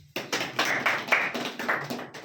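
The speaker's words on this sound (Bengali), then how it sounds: "হাততালি" Several sharp hand claps ring out in an uneven rhythm during a live general-knowledge quiz, close and fairly loud, with no voices.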